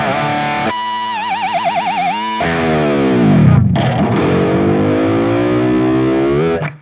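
Steinberger Spirit electric guitar with a DiMarzio Super Distortion pickup, played loud and heavily distorted: sustained chords, a warbling vibrato-bar passage, then a deep dive-bomb swoop before ringing chords cut off abruptly.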